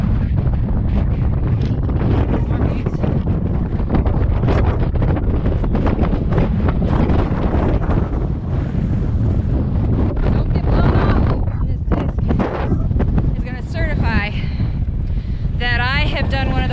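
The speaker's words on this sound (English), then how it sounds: "this wind is really bad and blowing me over" Strong wind buffets the microphone on a mountain summit in the Adirondacks, roaring loudly and continuously throughout, while a person speaks over it.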